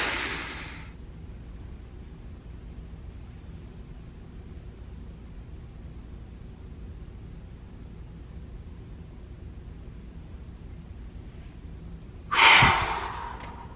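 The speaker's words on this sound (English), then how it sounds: "That was a fairly deep breath." A slow, deep belly breath, with a soft airy inhale and a long, quiet exhale under steady background hiss, ending in a brief louder rush of breath near the close.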